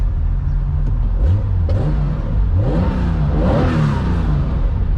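A Porsche 911 engine with a new muffler revs up and down several times with a deep, throaty exhaust rumble, loud and close, rising pitch sweeps between idling stretches.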